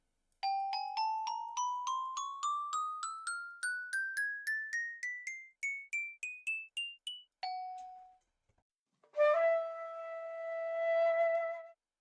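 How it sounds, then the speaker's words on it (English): A Minecraft note block on a gold block plays a rising run of bell-like glockenspiel tones, about twenty quick clean pings climbing in pitch, then a single lower note and a final shimmering held chime. "the block of gold, which sounds like a bell or a glockenspiel"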